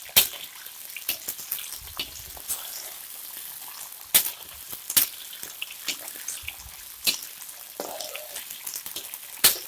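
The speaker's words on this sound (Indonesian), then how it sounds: "Nanti setelah ini ditumis, kita biarkan layu sebentar." Garlic sizzling as it is stir-fried in a pan for a fish dish, a steady close crackle with sharp spattering pops, and no talk.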